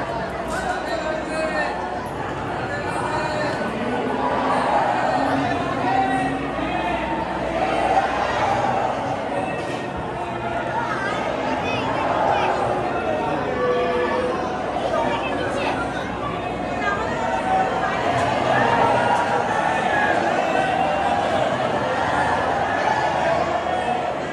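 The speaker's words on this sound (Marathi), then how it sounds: "इकडे पण दर्शनासाठी खूप गर्दी आहे" A large crowd of worshippers at Prem Mandir temple, a steady dense hubbub of many voices chattering nearby, continuous and fairly loud throughout.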